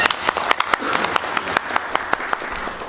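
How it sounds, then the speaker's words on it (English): An audience at a film festival closing ceremony applauds women officers, a dense burst of clapping with sharp individual claps standing out, close and loud for about three seconds. "let us give them a round of applause"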